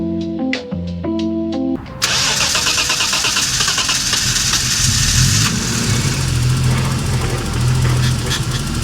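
A Holden VL car engine cranks briefly after its battery is reconnected, catches with a loud bang and settles into a steady, rumbling idle close by.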